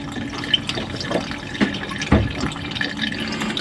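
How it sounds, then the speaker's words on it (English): Water drains from a sailboat's fuel filter, trickling and dripping in a small stream, with occasional splashy drops and a few soft knocks, close by and fairly quiet. "And we can drain off some of that water."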